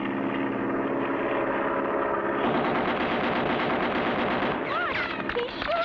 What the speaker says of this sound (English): Look, he's shooting.